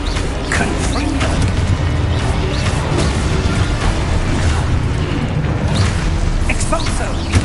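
Repeated spell blasts and crashing impacts from the Confringo fire spell in the video game Hogwarts Legacy, loud and dense with rumbling booms over busy game noise, while a voice shouts over it.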